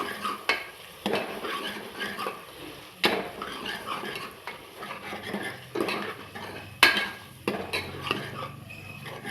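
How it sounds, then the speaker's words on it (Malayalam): Ginger garlic paste stirred in a pan, a spoon scraping and clinking against the metal in repeated strokes over a low sizzle, close and continuous. "ഇഞ്ചി വെളുത്തുള്ളി പേസ്റ്റ് ഇട്ട് കൊടുത്ത് നന്നായി നമുക്ക് ഇളക്കി കൊടുക്കാം"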